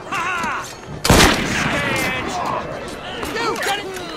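A single loud close gunshot in the Assassin's Creed Syndicate video game, a sharp crack that dies away into the sound of the scene, with voices talking before and after it.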